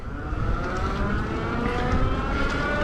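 Mod Bikes City+ step-through electric bike with a 500-watt hub motor pulling away from a dead stop, a steady rising whine and hum layered over constant road and wind rumble, close and continuous.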